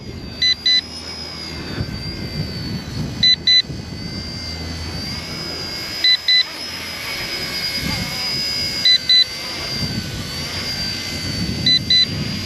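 Small electric radio-controlled ERA UH-1 helicopter whines steadily overhead as its battery runs down, a continuous motor drone with wind rumble, while a repeating double beep, likely a low-battery alarm, sounds about every three seconds.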